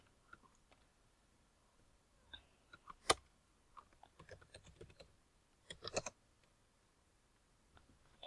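Computer keyboard being typed on, quiet scattered key clicks in short uneven bursts with one sharper tap, close and faint in an otherwise quiet room.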